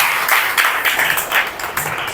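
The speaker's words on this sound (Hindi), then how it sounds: "ताली बजा के प्रभु को धन्यवाद।" Congregation at a Hindi-language church sermon clapping hands in thanks, a dense, continuous patter of many hands with rising and falling surges, moderately loud and steady throughout.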